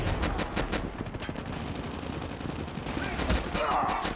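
Rapid gunfire in a Call of Duty Mobile match, dense bursts of automatic shots crackling throughout at close range, mixed with game sound effects.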